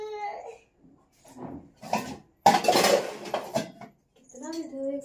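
Dishes and utensils clink and clatter in irregular bursts during washing in a village home, with louder scraping in the middle, while someone talks and a voice is heard between.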